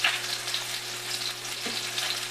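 A salmon fillet fries in a pan with a steady close sizzle and crackle of hot oil, constant throughout with small bursts of spatter and no talking.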